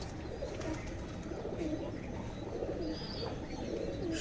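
Pet pigeons, including Sirazi and local desi birds, coo softly and repeatedly on a rainy day against a steady background hiss, fairly faint and close, with no talk.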